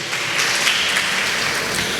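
A church congregation applauds during a sermon, a steady wash of many hands clapping that sounds fairly close and continues evenly throughout, with no talking over it.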